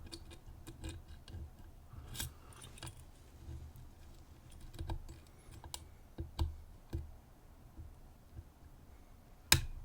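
A lock pick works through the pins of an 11-pin Takigen dimple cam lock, giving faint scattered metallic clicks and ticks up close, with one sharper click near the end.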